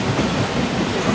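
A long passenger express train pulls out of a station near Nagpur in India, a dense, steady rumble and rattle of wheels and carriages that fills the whole stretch evenly, loud and close.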